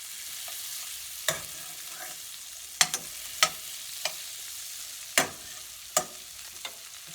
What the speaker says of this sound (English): Next, we make a roux. That's about a 1/2 stick of butter,